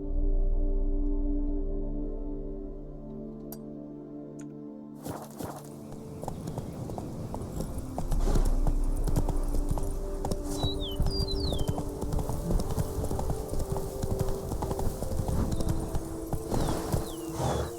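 Roach the horse from The Witcher 3 galloping, hooves clip-clopping in a steady rhythm over a busy game soundscape of music and ambience, with occasional bird-like chirps and no speech.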